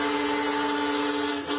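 A SunRail commuter train in Central Florida sounds its horn in a loud, sustained multi-tone blast over rumbling rail noise, with a brief dip near the end.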